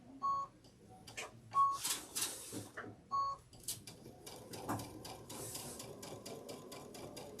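A sewing machine stitches a quarter-inch seam on a sew-along basket project, running in short bursts at first and then a steady rapid ticking run of needle strokes, close and fairly quiet.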